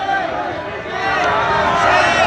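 A loud crowd roars with cheering and laughter, a dense, sustained wall of voices that swells slightly toward the end.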